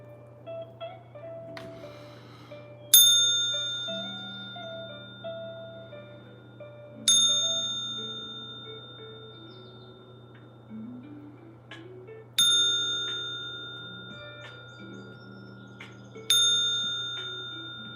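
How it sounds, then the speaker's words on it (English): A small mini singing bowl is struck four times at even intervals, each bright metallic ring sustaining and slowly fading, over quiet background music. "I'm gonna go ahead and just ring this bell and just clear the energy"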